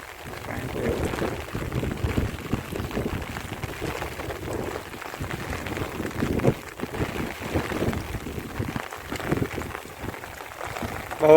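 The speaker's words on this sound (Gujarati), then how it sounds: "બહુ વરસાદ પડ્યો" Heavy, continuous downpour during a day of torrential rain, a dense broadband roar with wind buffeting the microphone, filling the clip from start to finish and growing louder at the very end.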